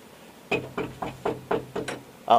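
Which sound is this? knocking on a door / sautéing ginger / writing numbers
knocking on a door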